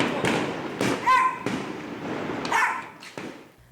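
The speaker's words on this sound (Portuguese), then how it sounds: "Em meio aos fogos de artifícios que coloriam o céu, o som de tiros cortavam a noite" Sharp bangs of gunshots mixed with fireworks crack across the night at irregular intervals, some close and loud, with a dog barking and faint voices.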